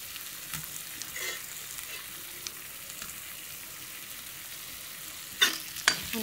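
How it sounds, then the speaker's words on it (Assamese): Fried potatoes with ginger, garlic, panch phoron spices and turmeric are stirred in a pan over a soft, steady sizzle. Quiet scraping stirs run throughout, and two louder scrapes come near the end. "সুন্দৰকৈ এতিয়া মই লৰাই দিছোঁ"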